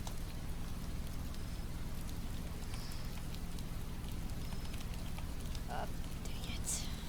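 Steady rain in the Roblox Greenville game falls as a constant dense hiss over a low rumbling engine drone, with a few faint clicks and brief sounds near the end.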